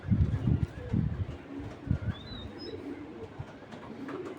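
Cooing of a black checker male pigeon, about ten years old, in a pigeon loft: low rolling coos repeat through the first two seconds, then quieter bird sounds continue close by.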